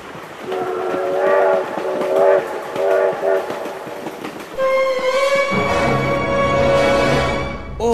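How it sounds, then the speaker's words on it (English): A train passes close by, first with rolling wheel clatter and short horn blasts, then a long, loud, sustained horn chord as the wagons rumble past. "Oh my God, train!"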